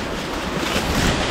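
Fast-flowing water rushes outdoors in a loud, dense, steady wash with some wind buffeting the microphone, continuous and close, with no talking.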